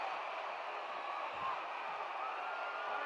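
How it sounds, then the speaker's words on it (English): A wrestling arena crowd roars with sustained applause during a match involving Bull Curry, a dense, steady wash of cheering and clapping that fills the whole stretch at moderate level. "And listen to this tremendous roar of applause given to Bull Curry."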